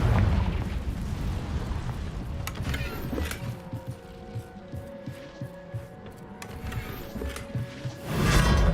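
A Confringo blasting spell explosion in the game Hogwarts Legacy, a sustained rumbling burst with a tonal hum running through it and a fresh loud blast near the end, no talk.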